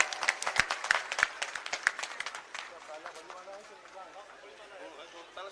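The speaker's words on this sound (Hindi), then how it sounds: "जोरदार ताली बजाकर स्वागत करो" A crowd at a political rally claps loudly in sharp, uneven bursts that gradually thin and fade, leaving murmuring voices and a speaking voice underneath.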